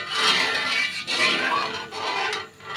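Milk for chhena is stirred continuously in a pan, a steady scraping and rubbing of the utensil against the pan bottom in repeated strokes, close and moderately loud with no talking.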